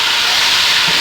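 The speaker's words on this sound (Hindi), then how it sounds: "इसमें अदरक लहसुन का पेस्ट शामिल कर रही हूँ।" Ginger garlic paste hits hot oil in a pan for kadhi pakora, producing a loud, steady, close hiss of sizzling that fills the whole short moment without a break.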